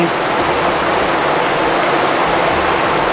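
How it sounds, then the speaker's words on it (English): A waterfall and rapids on a backcountry walleye river roar as a steady, dense, unbroken rush of water, loud and close throughout with no talk. "beautiful waterfalls, rapids, cascading"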